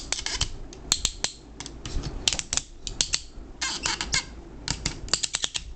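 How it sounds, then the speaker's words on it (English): Ratchet joints on the gun arms of a Transformers Roll Out Commander of Stars toy robot being moved, giving close, rapid plastic clicks in irregular bursts that come one after another with short pauses between them. "Ratchets are kind of tight there, but yeah, you can move them around."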